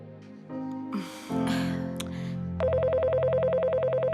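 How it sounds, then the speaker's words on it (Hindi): After a few tones and shuffling noises, a telephone starts ringing with a rapid, trilling electronic pulse that repeats steadily and sounds close and clear. "ये देखो, फोन बज रहा है।"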